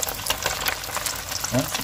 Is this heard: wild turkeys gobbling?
no